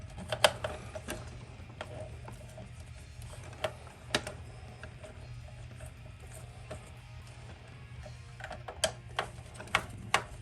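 Screws being worked loose from a Tamiya Midnight Pumpkin RC truck's 9.6 volt battery box, heard as quiet close ticking and ratcheting clicks in irregular bursts over a low steady hum, with no talking.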